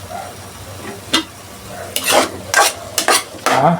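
Ground chicken being stirred in a pan after spaghetti sauce goes in, with short scraping strokes of a utensil against the pan and a soft sizzle, close and fairly loud, no talking.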